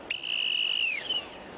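A single sharp referee-style whistle blast from a football linesman calling offside, loud and close, held for about a second before tailing off.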